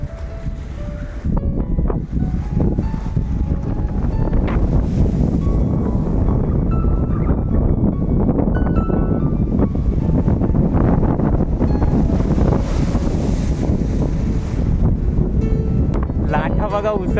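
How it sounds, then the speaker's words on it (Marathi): Monsoon sea waves surge against the end of a large jetty under construction, a continuous loud roar with heavy wind buffeting the microphone and someone talking over it. "लाटा बघा उसळत आहेत"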